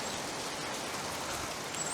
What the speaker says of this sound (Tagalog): Ang lakas po ng ulan, no?